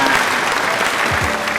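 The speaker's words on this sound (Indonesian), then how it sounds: "Tepuk tangan." Brief burst of dense applause from a small group, steady and close, lasting under two seconds.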